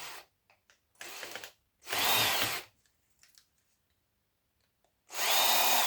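A power driver removing safety screws from a circuit board, three short whirring bursts of the tool separated by quiet pauses and small clicks, close and loud.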